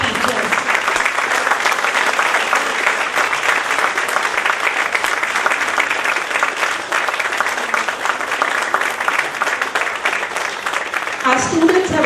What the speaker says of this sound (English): So a huge round of applause to all our teachers